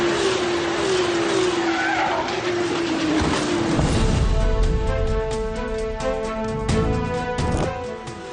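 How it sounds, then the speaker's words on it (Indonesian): Formula 2 race car with damage skidding out of control, tires squealing loudly over engine noise, followed by a crash into the trackside barrier and scraping, clattering debris as it slides to a stop. "Mobilnya mengalami kerusakan sehingga kehilangan kendali dan menabrak pembatas trek."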